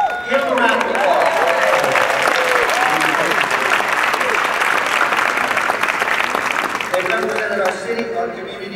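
Loud applause from a breakfast audience honouring a youth football team headed for the Pop Warner Super Bowl, a full, sustained round of clapping with faint cheers, tapering slightly at the end.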